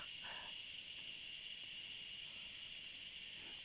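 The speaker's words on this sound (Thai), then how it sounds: "ส่วนมากก็จะเป็นเสียงมแมลงละ" A dense, steady chorus of insects chirping, high and continuous, with no voices and a faint hiss underneath.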